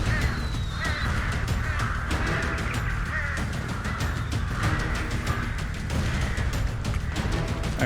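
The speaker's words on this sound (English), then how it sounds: "I hear angry crows?" Crows cawing in the video game Serious Sam: Siberian Mayhem: a repeated chorus of harsh caws over a dense, loud game soundscape with a low rumble, several birds calling in overlapping bursts throughout.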